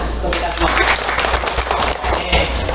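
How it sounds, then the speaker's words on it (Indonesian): A first-grade class claps together in a loud, busy burst in a classroom, close by, with voices mixed in among the clapping. "tepuk tangan."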